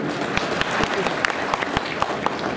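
Audience clapping at a political speech during the Diwali season, a steady patter of applause with sharper individual claps standing out, mixed with crowd noise and faint voices.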